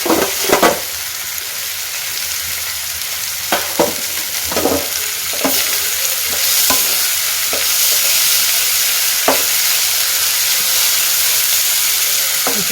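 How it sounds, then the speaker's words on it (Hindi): Onion, ginger-garlic paste, small-cut cauliflower, potato and peas sauté in a pan with a steady hissing sizzle, broken by a series of sharp spatula scrapes and knocks spread irregularly across the stretch, no voices. "मैंने इसमें डाला है प्याज, अदरक लहसुन का पेस्ट, उसके बाद गोभी, आलू छोटे छोटे काट के और साथ में मटर, और इसे मैं भून रही हूँ"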